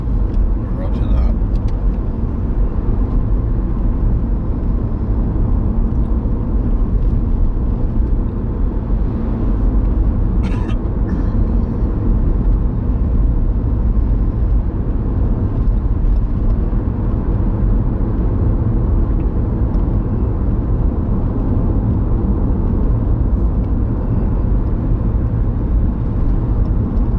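Steady road rumble and engine whir of a car travelling through Ancaster Crossroads in the UK, continuous and close throughout, with voices talking over the top.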